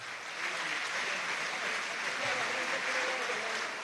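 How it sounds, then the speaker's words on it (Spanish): Applause from the audience at a political party congress, a broad sustained patter of many hands, moderately loud and steady, with some crowd voices mixed in. "Pues un aplauso"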